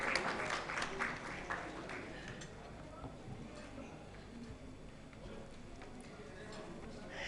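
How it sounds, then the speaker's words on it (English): An audience at a women's empowerment conference gives a round of applause, loud clapping at first that thins and fades as a voice speaks over it. "Can we have a huge round of applause?"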